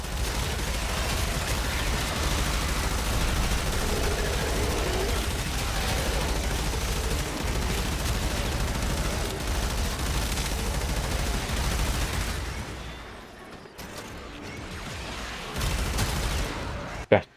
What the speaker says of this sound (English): I'm getting a little bit more frantic and wilder with my shooting